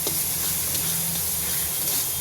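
Spices and pointed gourd fry in a small amount of oil, giving off a loud, steady sizzling hiss with no break.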